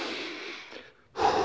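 A person outdoors in the mountains at Padiș in October takes a long, audible breath of fresh air, a close airy exhale that dips briefly before a fuller intake.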